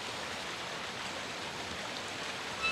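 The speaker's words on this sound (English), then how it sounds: "I can hear the waterfall." A waterfall in the video game Resident Evil roars as a steady, broad hiss of rushing water. The sound is constant and fairly loud throughout, with no talk over it.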